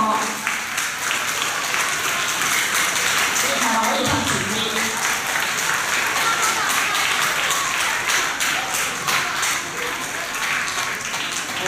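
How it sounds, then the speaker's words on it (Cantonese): Dense, sustained clapping from an audience fills a school prize-giving ceremony as two students are honoured, steady for the full length while a voice speaks over it. "請大家一次過俾啲掌聲呢兩位獲獎嘅同學"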